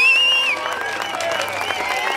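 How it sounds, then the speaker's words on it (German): A crowd claps and cheers for a 13-year-old skater at a Santa Claus skate contest in Wermelskirchen skatepark, with a loud whistle at the start fading into sustained applause. "Mit dicken, fetten Applaus"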